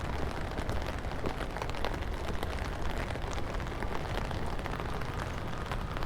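Heavy rain from Tropical Storm Hilary pours steadily on the streets around Skid Row, a dense, loud, unbroken hiss of drops hitting pavement and surfaces close by, with no voices.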